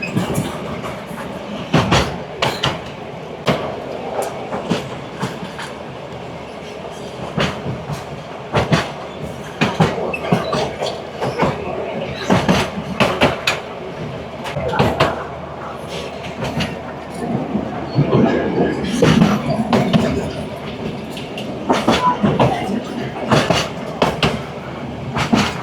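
Shargan 8 narrow-gauge train in Serbia running along its railway, a steady rumble with rhythmic clicking bursts of wheels over rail joints throughout, heard from on board at moderate loudness.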